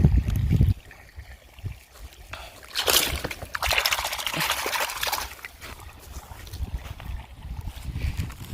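Water seeping through a small breach in an earthen field embankment as a dam's water is let into a farm plot, a soft intermittent trickle and gurgle with brief splashes and faint voices nearby.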